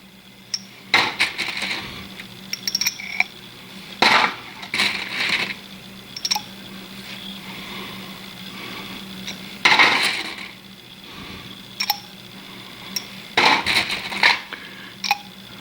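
Reloaded 9mm cartridges, set up for a Glock, drop one after another into a case gauge, giving sharp metallic clinks and plunks at irregular intervals over a faint steady background hum.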